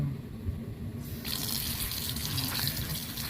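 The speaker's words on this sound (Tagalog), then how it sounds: "Kaya lagyan natin ng water." Water gushes steadily from a tap into a bowl to soak raw chicken, starting after a quiet moment and continuing as a close, even splashing rush.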